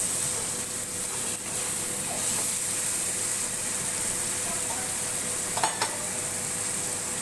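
Ground chilli, cumin, coriander, turmeric and sugar sautéing in hot oil for a duck egg curry, a steady close sizzle and hiss with a few scraping stirs of the spoon near the end.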